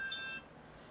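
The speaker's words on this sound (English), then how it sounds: "That is my alarm going off." An alarm bleeps briefly with a thin, high electronic tone, quiet and lasting under half a second before fading into a soft room background.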